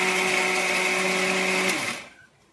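Kitchen mixer grinder running steadily with a loud, close motor whine and blade whir for about two seconds, then switched off and spinning down into quiet.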